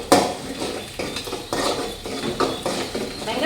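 Onions sauté in a pan for a fish curry, heard mostly as a metal spoon scraping and clinking against the pan in a rhythmic series of close strokes, with little sizzle beneath.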